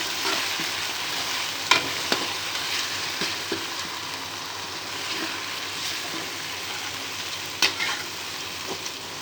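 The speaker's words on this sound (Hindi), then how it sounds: "तो अब हम इसमें डालेंगे लहसुन और मिर्च का जो पेस्ट हमने तैयार किया था वो हम डाल देंगे इसमें, जिसको अच्छे तरीके से मिक्स करेंगे।" Garlic and chili paste is frying with onions in a pan for a white chickpea curry. Steady close sizzling continues throughout, with occasional sharp clicks and scrapes from stirring.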